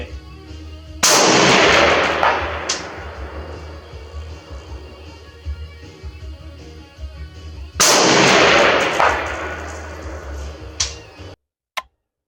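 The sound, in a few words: SDM-R rifle gunshots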